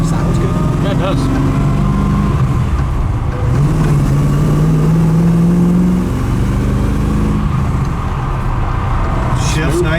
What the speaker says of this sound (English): Shifts nice and shifts nice and smooth through all the gears.